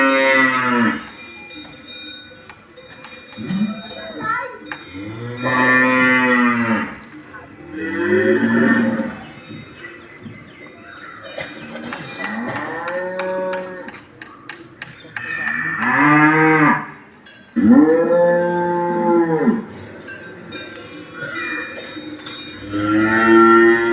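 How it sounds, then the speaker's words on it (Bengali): Village cows coming to graze in a field in the morning moo loudly again and again, long drawn-out lows spaced through the scene, with a faint cowbell clink in between. "দিনের শুরুতেই গ্রামের গরুগুলো আসছে দেখুন মাঠে ঘাস খেতে"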